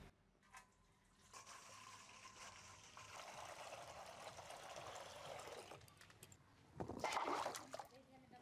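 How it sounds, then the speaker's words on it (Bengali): Water pours into a basin for washing jackfruit buds outdoors in a village, a steady splashing gush that builds over several seconds and ends in a louder burst of splashing, with a voice talking faintly beneath it. "তার জন্য একটা গামলা নিয়েছি, জল দিয়ে দিচ্ছি।"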